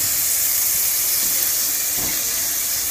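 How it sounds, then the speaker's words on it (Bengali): Potatoes fry in hot oil in a pan, giving a loud, continuous, even sizzle and hiss that holds steady throughout with no talk. "কি সুন্দর করে ভাজছি"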